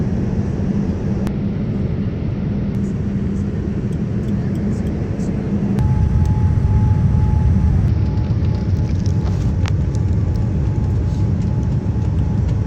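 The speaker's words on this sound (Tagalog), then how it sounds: "taglanding ng eroplano" Airliner cabin during landing on approach to Abu Dhabi, a steady loud broadband roar that swells and deepens midway as engines and airflow change, continuous throughout with no talk.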